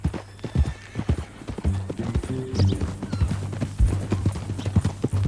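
Horse hooves clip-clop in an uneven walking rhythm in the video game Red Dead Redemption 2, close and clear, with a soft snort and faint background ambience.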